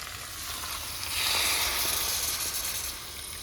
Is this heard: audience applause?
no